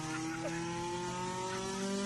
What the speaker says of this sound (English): So let's go ahead and start with a ricer exhaust.